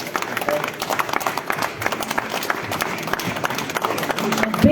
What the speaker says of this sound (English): Big round of applause, everyone, for esteemed chief guest, Piyush Goyal, for that motivating and inspiring speech.